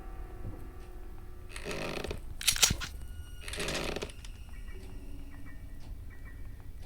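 In the horror game Granny, boards are knocked off a door: two dull rasping bursts separated by a short sharp knock, moderately loud over a quiet background hum.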